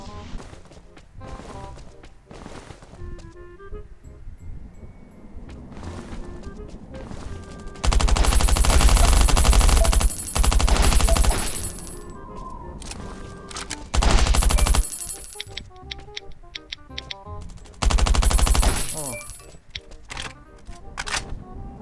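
Loud bursts of automatic gunfire in the survival shooter Last Island of Survival, arriving in three heavy sustained volleys with quieter footsteps and clicks between them.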